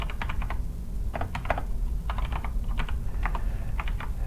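Fingers type on a computer keyboard in quick clusters of close, clicky keystrokes separated by short pauses, over a steady low hum.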